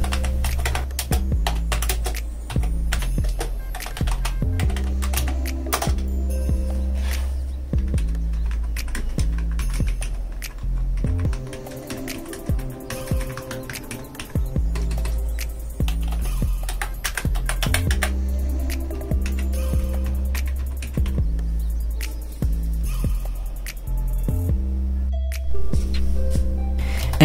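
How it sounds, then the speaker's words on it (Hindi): Mechanical-feel gaming keyboard typed on steadily and quickly, a dense run of close clacking keystrokes over a continuous low hum of background music. "सो ये मेरे पास मैकेनिकल फील वाला गेमिंग कीबोर्ड है।"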